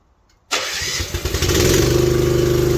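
A manlift engine that had been sprayed wet cranks and catches after a quiet start, then settles into a loud, steady, close-up running rumble.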